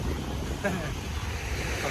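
Sea waves wash onto a Thai seashore, a brief roaring surf with wind buffeting the microphone, while people talk over it.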